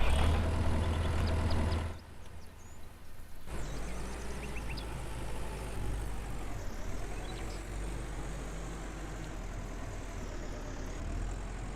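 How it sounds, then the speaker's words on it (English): Tractor engine in the farming game Farmer's Dynasty, a loud, steady low rumble that drops off briefly, then settles into a continuous idle-like drone. "And let's take the tractor,"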